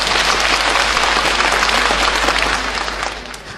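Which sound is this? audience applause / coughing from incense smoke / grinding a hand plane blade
audience applause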